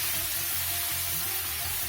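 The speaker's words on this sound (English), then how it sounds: "Fry the rice till it changes color." A brief, dense sizzling hiss of rice frying in a pan, steady and close, with a low hum underneath.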